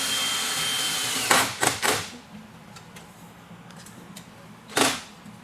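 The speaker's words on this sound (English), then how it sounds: "Okay, we're going to run another screw in." An electric drill drives a self-drilling screw while installing a rolling shutter window: a steady whine for about a second, then several sharp bursts and a final burst near the end, close by with no talk.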